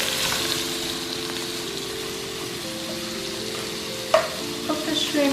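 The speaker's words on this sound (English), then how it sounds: "I want to kind of golden brown the shrimp with some color first" Shrimp fry in a hot pan for Thai basil fried rice, giving a continuous crackling sizzle with a steady hum underneath and a few sharper pops toward the end.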